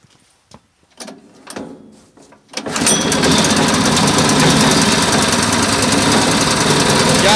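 Petrol engine on a concrete mixer is pulled into life with a few cord tugs and sputters, then catches and runs loudly and steadily at close range.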